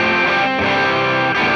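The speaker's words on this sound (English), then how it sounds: "that sounds pretty good for a cranked up twin" An electric guitar through a cranked Fender Twin amp model on a Tone Master Pro: a thick, sustained distorted chord rings steadily, then shifts to a new voicing near the end, loud and up close.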